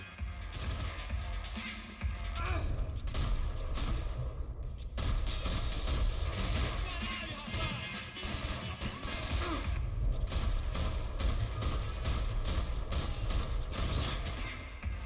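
Heavy doors in the Max Payne 3 video game creak slowly open with a long, grinding mechanical groan. The sound runs loud and continuous with dense low rumble throughout, and no one speaks.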